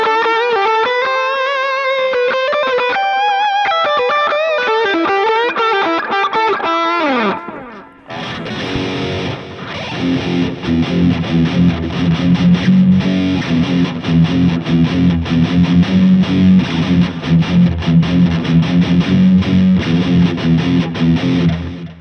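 Electric guitar run through a Mooer Prime M2 multi-effects pedal on a modern lead preset: a bright clean arpeggiated phrase gives way after a brief dropout to loud, dense distorted riffing with sustained low chugging notes.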